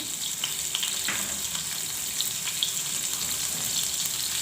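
Steady hot-oil sizzle of curry leaves frying, a continuous crackling hiss with a few brighter pops, close and fairly loud, no voices.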